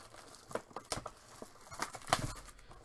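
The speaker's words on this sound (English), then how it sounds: "It's going to rip for us." A 2021 Panini Phoenix Football trading card box is torn open by hand, giving close, irregular crinkles and short ripping bursts of cardboard and wrapper with small pauses between them.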